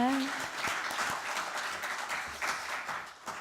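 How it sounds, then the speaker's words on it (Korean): A seminar audience at a Korean association's founding ceremony claps briefly and somewhat faintly, the applause starting after a short voice and fading within a few seconds. "박수 한번 주시기 바랍니다"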